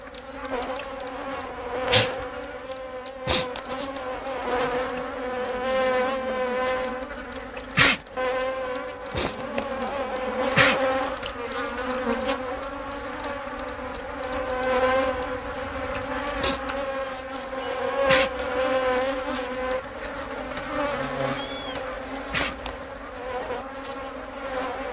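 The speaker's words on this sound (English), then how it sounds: "African bees, like everything else, are desperate for sustenance. They seek out any source of moisture." African bees swarm in search of moisture, a dense, continuous buzzing that swells and wavers close by, with individual insects darting past and no talk.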